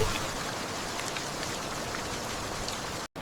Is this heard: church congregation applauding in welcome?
no